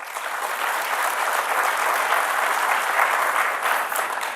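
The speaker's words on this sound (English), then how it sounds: "Another huge round of applause for all former leaders who will be honored today here." Sustained crowd applause at an African youth summit honoring former Pan-African leaders, a broad even wash of clapping held at steady volume from start to finish, with no speech.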